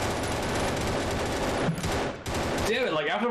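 Rapid bursts of gunfire from a prototype first-person shooter game, dense automatic shots in two volleys separated by a short pause, loud and close with some voice in the background.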